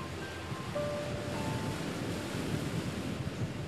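Ocean waves wash onto the shore at Marine Drive in a steady, broad roar of surf with some wind noise, continuous and fairly loud, with no voices.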